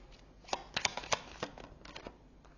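A deck of tarot cards is shuffled during a reading, giving a series of quick riffling flicks and soft slaps in uneven bursts, close and fairly quiet with no talking.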